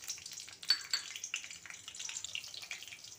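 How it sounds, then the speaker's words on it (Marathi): Green chillies crackle and sizzle as they hit hot oil in a pan, a dense, spitting fry with a sharp burst near the start, close up and steady throughout. "तेल गरम झालं आहे, आता आपण मिरची टाकणार आहोत।"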